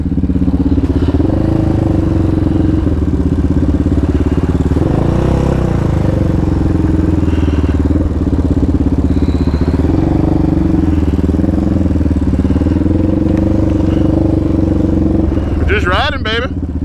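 A Yamaha Raptor 700 ATV engine drones on throughout the ride, a loud, continuous rumble with slight rises and dips in revs and some rattling, plus a brief squeal near the end.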